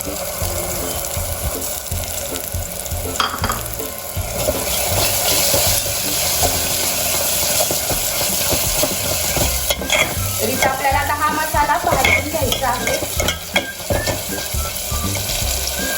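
Masala paste for amti sizzles and fries in a pan while being stirred, a loud close crackle that runs continuously with scraping stirs, with no talk.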